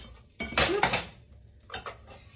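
Melted butter and milk stirred in a pan, with bursts of close metal-on-metal scraping and clinking from a utensil, a quiet gap, then a shorter second burst of scraping, without talking.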